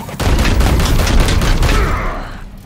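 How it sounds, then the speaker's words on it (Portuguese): Gunfire from a squad firing on an enemy in the turn-based tactics video game W40k: Chaos Gate - Daemonhunters, a loud dense burst of shots with heavy low-end booms that tails off over the final half second, with no talking. "Dou tiro aqui, vai morrer."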